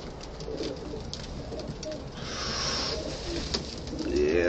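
Pigeons coo softly among a flock, low throaty murmurs layered over a steady background rustle that grows a little louder near the end, with no clear speech.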